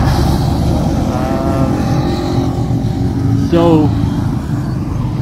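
Road traffic passes outside the Waterfront Hotel on a quiet lockdown afternoon, heard as a steady low engine rumble with one vehicle sweeping past, while someone talks over it.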